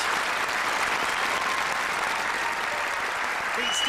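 A snooker crowd applauds loudly and continuously, dense clapping filling the whole stretch at even volume, with a commentator's voice faintly beneath it.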